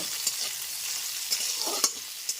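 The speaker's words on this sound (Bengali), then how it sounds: "এইবার টমেটোটা একটুখানি ভেজে নেব" Tomato and green chillies frying in a pan with salt, a bright steady sizzle with a few sharp scraping stirs of a spatula, moderately loud and without talking.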